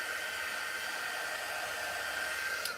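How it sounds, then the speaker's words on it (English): A heat tool blows hot air onto a rub-on transfer for a Christmas craft project, making a steady, even whooshing roar that holds constant throughout at close range. "Just a little bit of heat from a heating tool will help it"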